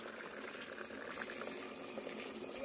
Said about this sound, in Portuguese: Agora eu vou colocar um pouquinho de água.